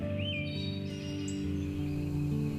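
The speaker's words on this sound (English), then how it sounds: "What you'll find is a smattering of birds." Birds chirping in Yosemite in the Sierra Nevada, with several thin, high calls and trills heard clearly over a steady, dense outdoor hum.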